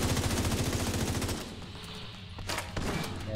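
Rapid bursts of automatic gunfire aimed at an enemy turret in The Division 2, a loud steady volley for over a second, then scattered single shots and impacts amid game ambience.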